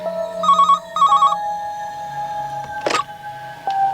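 An electronic telephone trills in two short bursts, loud and close, followed by a sharp clatter and a quieter steady electronic tone.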